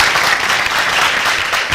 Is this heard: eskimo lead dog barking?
no